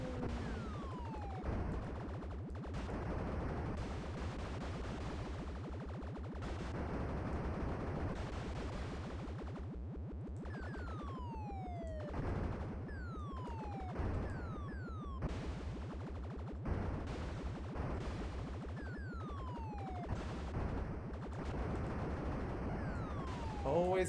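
Rapid bursts of video game gunfire mixed with descending whistling missile launches fill a Konami shooter, with dense overlapping shots and explosions running continuously throughout.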